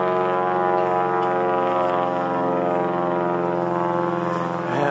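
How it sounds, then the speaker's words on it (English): A Cessna propeller plane passes loudly overhead near a small airport, a steady droning engine with strong harmonic whine filling the whole clip, slightly rising in pitch toward the end. "There's a plane. Loud Cessna, I think."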